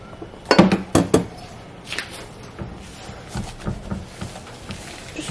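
Pancake batter with egg whites is roughly mixed in a bowl, with a few sharp clinks of a utensil against the bowl at first, then softer, irregular scraping and tapping nearby.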